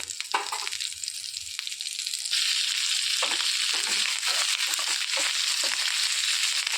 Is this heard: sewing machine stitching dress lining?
no